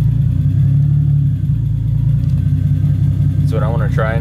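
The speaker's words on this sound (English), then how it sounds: "So we're idling at like 500 RPMs to 600 RPMs. It's not really the greatest." A 1985 BMW E30 with a turbo engine idles low around 500 to 600 RPM, a steady, close rumble with an uneven beat; a voice cuts in briefly near the end.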